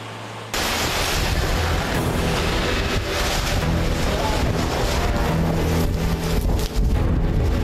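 Strong gusts from Super Typhoon Leon roar across coastal Cagayan, a loud, continuous buffeting rush that batters the microphone from start to finish.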